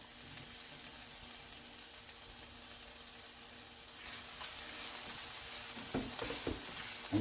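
Red onions frying with garlic in a pan: soft steady sizzle that grows louder midway, with a few stirring scrapes toward the end.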